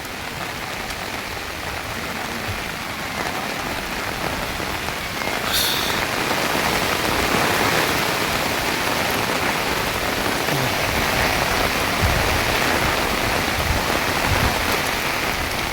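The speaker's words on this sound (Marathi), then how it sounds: "पाऊस ना भरपूर आहे आज पण" Steady rain pours at the Savlya Ghat mountain pass viewpoint in foggy weather, a dense, even hiss of drops on surfaces that grows a little heavier partway through and runs continuously with no voices.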